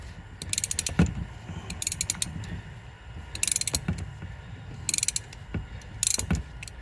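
Ratchet wrench loosening a car's engine mount bolt during a lower control arm replacement: bursts of rapid metallic clicking as the handle swings back and forth, close and clear over a low background hum.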